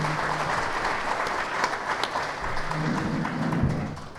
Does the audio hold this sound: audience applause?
yes